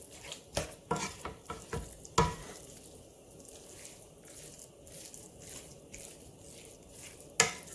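Seasoned ground beef browning in a pan, with a low steady sizzle under repeated scraping and stirring clatter from a utensil on the pan.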